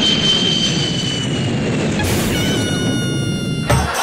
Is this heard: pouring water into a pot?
no